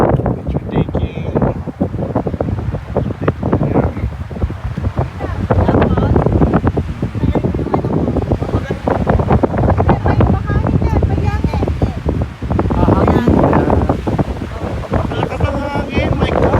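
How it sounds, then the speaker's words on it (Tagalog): Strong mountain wind roars against the microphone near Whistler, a constant loud buffeting rush, with people talking under it. "so windy up here in the mountain"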